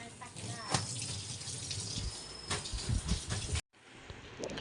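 Water splashes and runs as a floor is washed at home, close by and moderately loud in uneven bursts, with someone speaking now and then. It cuts off briefly near the end, then fainter sounds follow.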